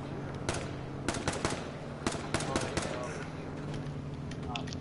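Bursts of rapid gunfire in a PS4 shooter video game, a string of sharp repeated shots across the whole stretch, fairly loud over steady background noise, with a voice talking now and then.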